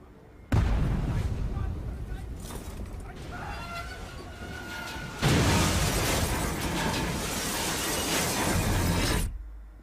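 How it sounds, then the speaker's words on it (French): A blast aboard a train in Call of Duty Black Ops 3 sets off a sudden loud roar, followed seconds later by a second, heavier burst of debris and rumbling that sustains before cutting off. "À 7h31, un groupe terroriste provoque une explosion à bord de ce train."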